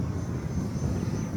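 RC Freewing English Electric Lightning model jet climbing overhead, a steady, fairly faint whooshing ducted-fan drone with light wind buffeting.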